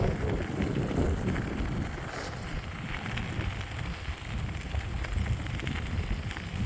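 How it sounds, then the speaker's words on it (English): Strong wind roars and buffets continuously, a loud rushing rumble with gusty low-end thumps and no talking. "Welcome to another holy hell windy day."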